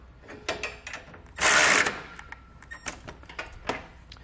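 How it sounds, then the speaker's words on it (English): A ratchet with a 19mm socket snugs up the bolts of a Roadmaster Direct-Connect base plate on a 2019 vehicle, giving quick, close clicking bursts and one loud, brief whirring spin, with no talking. "I'm also going to go back and just snug up these bolts as well. Again, I'm going to be using a 19mm wrench and socket."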